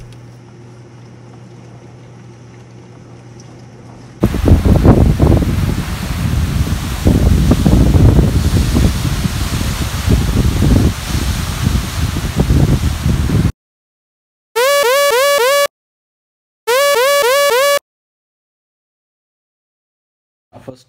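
Strong hurricane wind at night gusts and buffets the microphone in loud, uneven surges for several seconds, followed by silence and two short bursts of a repeating electronic alert tone.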